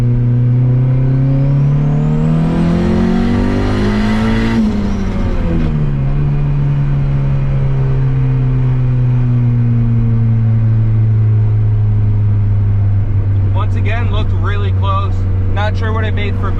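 A turbocharged Honda Civic accelerates hard from inside the car, the engine note climbing through a gear, dropping at a shift, then settling to a steady drone, with someone talking near the end.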